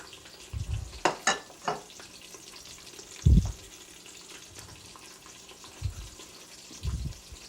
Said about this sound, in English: Add the beef to the oil.